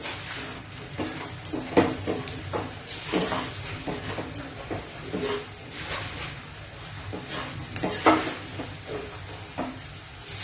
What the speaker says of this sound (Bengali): মশলাটা দিয়ে একটু নাড়িয়ে নেব আমি